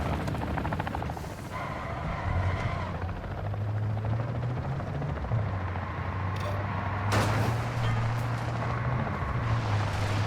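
A helicopter's rotor in Call of Duty: Modern Warfare II DMZ thrums loudly and continuously, close by, with a sharp burst of noise partway through.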